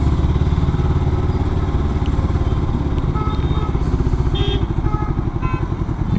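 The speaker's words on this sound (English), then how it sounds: "It just rides like a normal motorcycle." Royal Enfield Himalayan 400 twin-cylinder motorcycle on the move, its engine pulsing in a loud, close, rapid rhythmic thrum with wind rush and small clattering ticks over the top.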